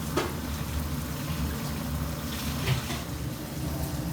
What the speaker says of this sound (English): When it's almost cooked, you can add the grated coconut and let it simmer.